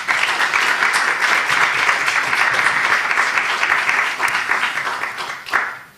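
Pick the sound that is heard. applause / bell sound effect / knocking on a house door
applause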